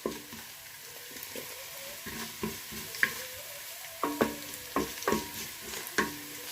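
Chopped ginger and garlic fry in a pan for a Kerala-style chicken roast, with a soft steady sizzle broken by repeated scraping and clinking as a spoon stirs, close and fairly quiet.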